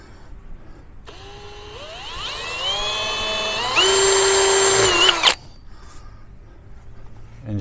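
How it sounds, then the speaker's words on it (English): Power drill whirs up and bores through masking tape on a Dometic roll-out awning, its pitch climbing then holding steady and loud before cutting off abruptly after about four seconds. "you can see the drill is not moving with the masking tape on"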